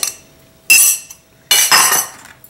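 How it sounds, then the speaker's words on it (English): Two eggs cracked one after another against a hard edge for chapli kebab, each a sharp loud knock followed by a brief crunchy shell break, the second crack needing more force. "And this 2 eggs. Quite a strong egg it was. I have to use quite force to break the shell"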